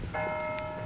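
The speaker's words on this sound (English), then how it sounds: "As bells tolled, the procession slowed" Church bells tolling at St. Mary's church during a street procession, a sustained bright ringing tone with overtones that swells in after a moment and hangs steadily over low outdoor rumble, moderately distant.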